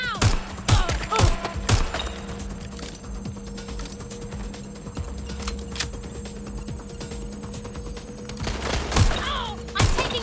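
Gunfire in the Watch Dogs Legion video game: sharp, loud shots crack in scattered bursts, clustered at the start and again near the end, over a low steady background hum.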